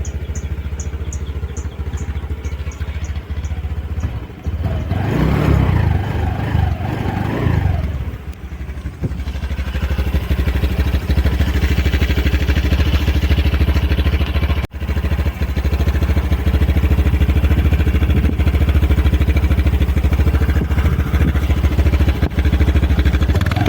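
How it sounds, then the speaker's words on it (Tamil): A Honda Dio 125 scooter engine with dual-tip exhaust runs steadily close by, a continuous low exhaust drone with a brief rise in revs early on, then settling into an even idle. "சைலன்சரை பொறுத்தவரை உங்களுக்கு டூவல் டிப் எக்ஸாஸ்ட் கொடுத்துருக்காங்க"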